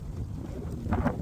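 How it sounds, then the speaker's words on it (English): Gusty wind rumbles steadily against the microphone, a low, blustery roar that swells slightly toward the end. "Oh my god, it's getting a bit windy."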